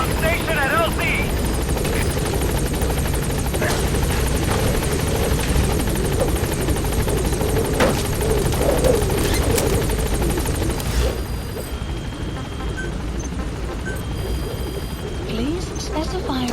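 A P-Quad support helicopter from Metal Gear Solid V drones loudly and steadily as it arrives at a landing zone, its rotor roar filling the scene before easing slightly near the end.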